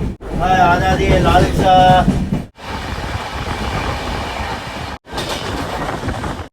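The old Saraighat Express pulls out of Rampurhat station, its wagons rattling and clattering loudly up close, with a squealing, tonal passage early on and steady rolling rumble after.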